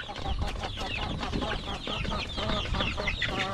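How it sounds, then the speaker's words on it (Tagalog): Chickens and turkeys feeding together in a pen, giving a dense, steady chorus of overlapping clucks and calls close by, with no talk. "pabo at saka manok."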